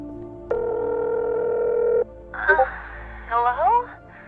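Phone sounds in the video game Technobabylon: a steady electronic dial tone holds for about a second and a half, then a short run of quick warbling tones like dialing or ringing follows, clear and alone.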